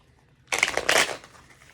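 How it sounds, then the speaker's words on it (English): A deck of tarot cards being cut by hand, one short, close riffling flutter of card edges lasting under a second, with quiet room tone around it. "I'll cut the deck."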